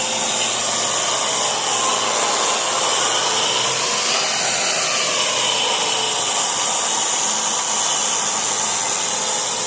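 A steady, loud whooshing drone of a dust extractor runs continuously without pause, with no voices.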